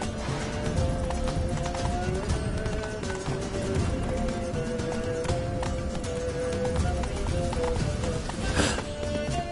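Galloping hoofbeats of a horse in The Witcher 3, a fast steady clip-clop running continuously under game music and ambient sound, with no speech.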